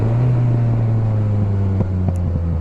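A 2019 Yamaha XSR 900 motorcycle engine drones steadily while riding, a loud close tone that holds an even pitch and then dips briefly as the throttle eases near the end.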